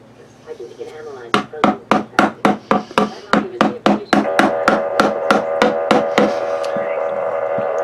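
The lid of a wood treatment can is pressed back on with a quick run of about fifteen sharp, evenly spaced knocks. The knocks are close and loud and give way to a steadier rustling background.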